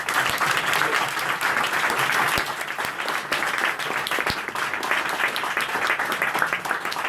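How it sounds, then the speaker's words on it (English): An audience gives a warm round of applause for Vitalik at a talk, with dense sustained clapping holding steady for several seconds and a few louder individual claps standing out. "So let's give Vitalik a very warm round of applause."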